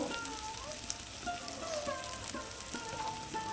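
Masala with ginger garlic paste fries in hot oil for fish, a close continuous sizzle and crackle broken by light stirring scrapes, with no talking.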